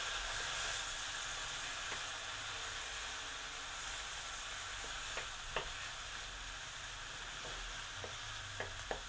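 Tomatoes go into a frying pan with garlic and onions, giving a steady soft sizzle with scattered light clicks and scrapes of stirring throughout.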